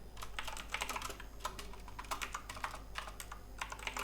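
Rapid, steady keystrokes on a computer keyboard while a name is entered into an HTML input field, a close, continuous clatter of clicks with no talking.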